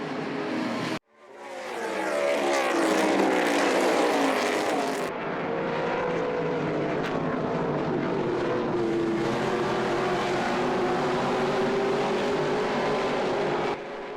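Race cars battle on a road circuit, their engines roaring loudly as they pass and accelerate, a continuous dense engine rumble after a brief cut at the start, with no voices.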